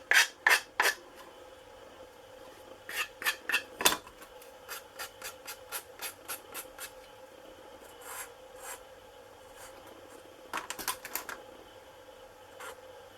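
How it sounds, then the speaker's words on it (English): A small Perma-Grit file rasps on a part of a Robart P-47 model, cutting custom baffling in tight spaces, in close, crisp strokes that come in quick bursts with short pauses between them; no one speaks. "This little perma-grit file works well for getting into these tiny little spaces like that."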